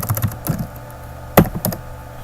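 Typing on a computer keyboard comes through as a handful of close, crisp key clicks in short bursts with small gaps between them, and no one speaks.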